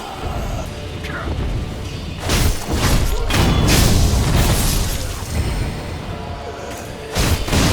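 Several heavy explosions of thrown bombs in Sekiro crash and boom in succession, loud and close, with thuds and debris-like bursts between them.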